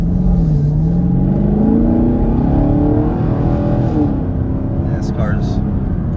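A 2021 Chevrolet Camaro LT1 accelerates on a road, its engine note rising steadily in a deep, loud rumble heard from inside, with a person talking over it.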